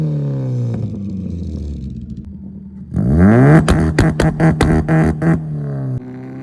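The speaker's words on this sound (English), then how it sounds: "now I believe we are ready to tune for two-step and pops and bangs" A tuned Mazda Miata engine idles, then revs hard as a two-step limiter fires a rapid string of loud, sharp pops and bangs, before dropping back to a steady idle and a final crack.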